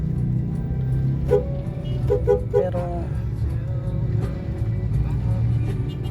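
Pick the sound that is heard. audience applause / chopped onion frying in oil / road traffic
road traffic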